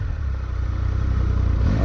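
A 2018 Triumph Tiger 1200 XCA motorcycle engine runs close by with a dense, steady low throb and faint mechanical clatter, loud and unbroken for the whole short stretch, with no speech.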